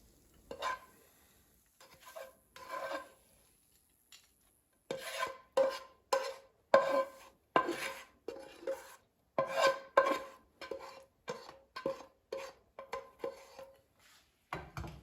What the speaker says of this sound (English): So now let me take it out of the frying pan.